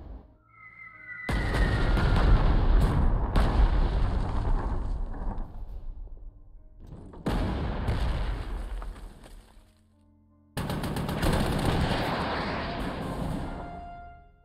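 Artillery bombardment in the wartime strategy game Panzer Corps 2 at Salerno, three loud rumbling blasts separated by short silences, each swelling and decaying with a whistling edge.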